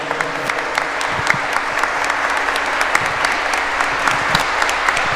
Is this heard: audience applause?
yes